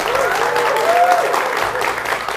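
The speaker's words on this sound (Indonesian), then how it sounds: "Tepuk tangannya mana?" A studio audience at a televised Indonesian democracy talk show claps in a dense, steady burst, with some cheering voices and a faint tone rising over the applause.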